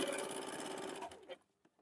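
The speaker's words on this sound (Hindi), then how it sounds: "पॉकेट वाला जो टुकड़ा है उसको पहले अलग से डबल सिलाई डाल देंगे" A sewing machine runs a fast, even whir of needle strokes while double-stitching a pocket piece for a gents' short kurta, then slows and stops after about a second and a half.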